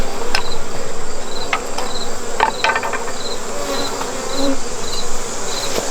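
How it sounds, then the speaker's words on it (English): A dense, steady buzz of many honey bees swarming around a hive, with a rhythmic high chirping insect and faint clicks mixed in. "A couple bees are getting irritated."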